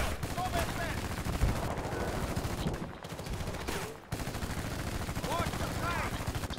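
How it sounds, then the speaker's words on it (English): Machine gun fire in the video game Battlefield Bad Company 2 chatters in rapid bursts with brief pauses, dense and fairly close, while voices and game sounds mix underneath. "All right, somebody get on that fucking MG."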